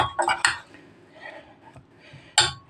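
Metal spoon stirring chopped food with red pepper flakes and spices in a pot, a few sharp clinks and scrapes against the rim, close and fairly loud, with quieter scraping between them.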